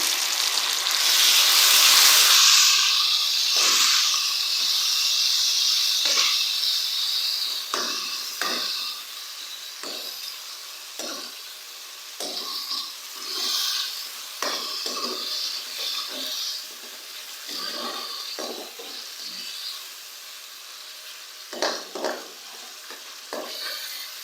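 Masala sizzles loudly as tomatoes and green chillies go into a pan for gobi masala, the hiss fading over the first seconds into a long series of distinct spatula scrapes and taps while it is stirred and roasted.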